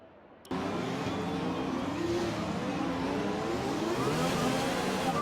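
A Formula 1 car engine in the F1 2020 video game at the French Grand Prix starts abruptly and keeps up a continuous high-pitched whine with rising and falling revs as the car accelerates through the gears.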